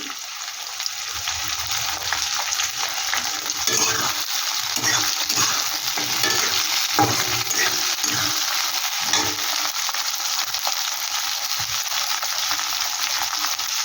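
Chopped tomato and a generous amount of chilli sizzle in a pan for a kachki fish curry, giving a steady, close crackle with occasional stirring scrapes and no voices.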